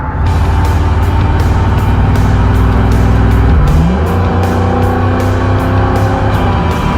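A car cruising at speed, with steady engine drone and road rumble heard from inside; the engine note shifts partway through.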